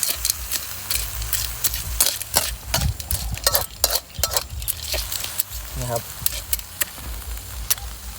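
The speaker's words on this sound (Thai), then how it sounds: "เราคนไปเลยครับให้ฝามันอ้านะครับ" Sand clams being stirred in a frying pan over a flame, a run of close, irregular scraping and clattering knocks of shells against metal with a faint sizzle, while someone talks over the cooking.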